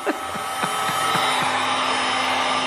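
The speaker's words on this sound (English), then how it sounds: "This is Christina's hair dryer" A handheld hair dryer blowing hot air onto shrink wrap while wiring flush-mount turn signals on an XDiavel motorcycle, a steady close whirring roar that holds for the whole stretch with a few faint ticks.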